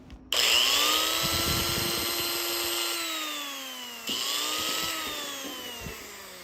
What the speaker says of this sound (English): How you engage and start the drill?